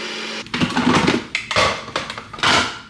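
A Ninja Creami ice cream maker respins a frozen high-protein pint with added milk, giving a loud, grinding whir that rises and falls in pulses as the blade churns for a few seconds.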